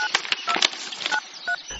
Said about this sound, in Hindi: मैंने तुरंत वो कागज ढूंढा और उस नंबर पर कॉल किया।